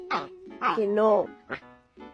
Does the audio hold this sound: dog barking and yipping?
yes